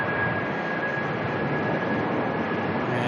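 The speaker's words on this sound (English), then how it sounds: "There's an A330 of Qantas there making its way in from Singapore." Qantas Airbus A330 airliner arriving at Melbourne Airport in from Singapore, a steady broadband jet roar holding loud and even throughout with a faint thin whine on top, no voices.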